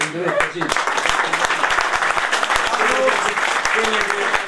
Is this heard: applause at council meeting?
yes